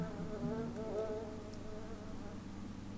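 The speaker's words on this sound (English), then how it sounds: "That musk fly, it's dead, but it's still buzzing." A dead musk fly in the game Morrowind keeps buzzing, a steady close insect drone with wavering pitch that runs throughout, no voices.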